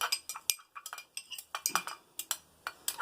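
A small knife mixing several makeup foundations together on a hard surface, producing a quick irregular series of close, crisp metallic clinks and taps, with no talking over them.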